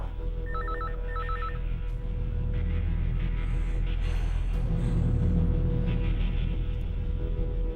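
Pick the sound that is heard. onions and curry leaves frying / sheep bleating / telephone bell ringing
telephone bell ringing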